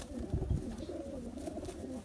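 A golden teddy pigeon, a crossbred fancy pigeon, gives soft low cooing close by, with a couple of throaty pulses early and a quieter rolling coo after.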